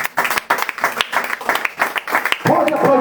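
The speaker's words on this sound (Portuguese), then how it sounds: "bater uma salva de palmas para Jesus" Church congregation claps in a burst of applause, dense rapid hand claps for about two and a half seconds before a voice takes over and the clapping blends under speech.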